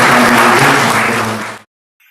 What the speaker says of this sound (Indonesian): Kemudian tepuk tangan untuk kita semua.